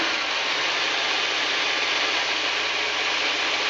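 A Safari van engine that was hard to start, with a suspected intake gasket leak, runs steadily after starting. It makes an even, unbroken hissy roar throughout, and no one speaks.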